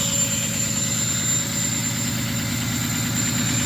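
Ford 6.0 Powerstroke diesel truck engine at high idle after a -2°F cold start on partially gelled fuel, a steady, loud, close rumble with constant low pulsing and a faint whine, no talk.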